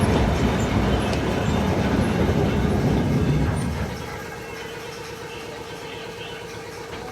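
A historic steam train on the St Nicholas Abbey estate in Barbados rumbles steadily along the rails, loud and close for the first few seconds, then drops to a quieter, even running hum with a faint tonal whine.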